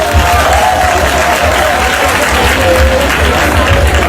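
A large crowd applauds loudly and steadily at a political gathering, a thick continuous roar of clapping with some cheering mixed in.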